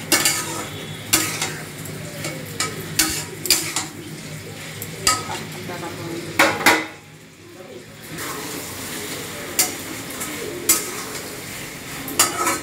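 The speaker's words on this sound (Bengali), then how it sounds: "এই দেখুন, আলু পটলটা আমি ফেলে দিচ্ছি। এবার এইটাকে একটু কষে নেব।" Potatoes and pointed gourd stir-fried in spices for a vegetarian curry, a constant sizzle broken by loud, frequent scrapes and knocks of a spatula against the pan, with a brief lull midway.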